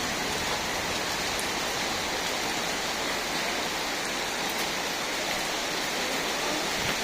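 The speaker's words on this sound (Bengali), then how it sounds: "বৃষ্টি পড়ছে" Steady rain pours down during a village storm in mango season, a dense and even hiss that stays constant and fairly close, with no voices.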